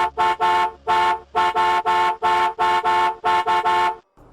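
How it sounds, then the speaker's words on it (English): A car horn honks in a rapid, insistent pattern of repeated blasts, sounding loud and clear with no other sounds around it, within a tense rural scene on a dirt road. "The sound of the horn was constant, blaring, calling them."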